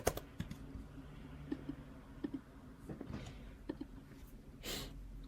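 A computer keyboard is typed on nearby in light, irregular bursts of soft clicks and taps, quiet and close with short pauses between keystrokes, and no speech.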